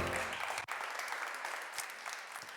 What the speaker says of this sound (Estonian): Võib küll plaksutada.